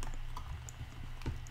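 Light, fast taps on a computer keyboard during app development, a soft irregular patter heard faintly and close, with no voice.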